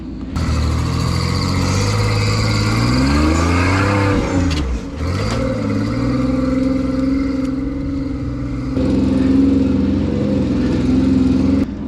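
A Toyota rock crawler buggy engine on a dry rock trail, loud and close, its revs rising and falling with a brief dip midway before climbing again, with no talk.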